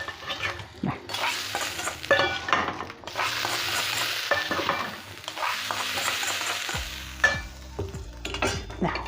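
Grated coconut is stir-fried with softening ingredients in a pan, giving uneven bursts of sizzling mixed with scraping spatula strokes and metallic clatter, close and busy, with a low hum underneath.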